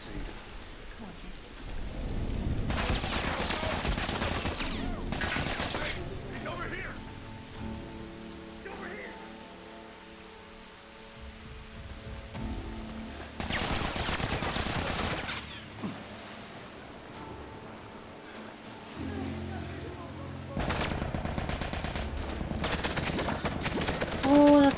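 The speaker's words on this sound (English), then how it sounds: "A lot of shooting." Gunfire in The Last of Us Part 1 comes in several dense bursts of rapid shots separated by quieter stretches, loud and rattling against a game soundscape with a tonal musical hum, without talking.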